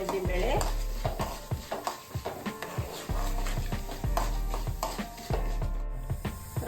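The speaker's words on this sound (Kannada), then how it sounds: "ಹಾಕಿ ಹುರ್ಕೊಂತ ಇದ್ದೆ ನಾನು ಕಡಲೆಬೇಳೆ, ಉದ್ದಿನಬೇಳೆ." Chana dal and urad dal roasting in semolina in a pan for vegetable upma, a constant sizzle under steady rhythmic stirring scrapes of a spoon against the pan.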